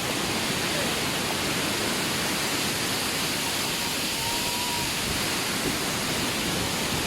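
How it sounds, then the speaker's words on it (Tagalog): A waterfall at Madongan Dam in Dingras, Ilocos Norte roars as a steady, loud, broadband rush of falling water that fills the whole stretch without letup. "Waterfalls guys."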